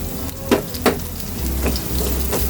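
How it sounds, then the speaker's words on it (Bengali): Two medium onions, chopped, and chopped garlic fry in oil with a steady close sizzle, broken by a few soft stirring knocks. "দিয়ে দিলাম তেল দিয়ে দিলাম মাঝারি সাইজের দুটো পেঁয়াজ কুচি দিয়ে দিলাম রসুন কুচি"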